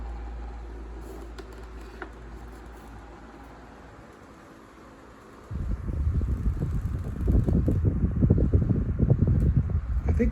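Lasko 12-inch table fan running, first a steady low whir, then louder turbulent airflow with a fluttering, uneven rush as the oscillating head begins to move.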